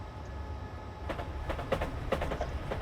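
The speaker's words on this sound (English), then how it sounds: "Just wait for our train to go past that sign." A commuter train in Train Simulator 2020, running from Brighton to London Victoria in the UK, rolls along the rails with a steady rumble and a series of rhythmic wheel clicks over the track joints.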